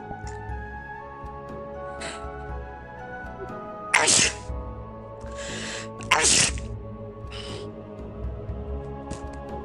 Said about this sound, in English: Oh, that was a hardcore sneeze.